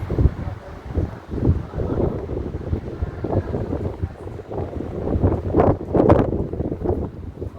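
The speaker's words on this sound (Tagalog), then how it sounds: "Lakas ng hangin, guys." Strong wind buffets the microphone by the sea near a fishing market, gusting in uneven bursts with rough low rumbling throughout and no voices.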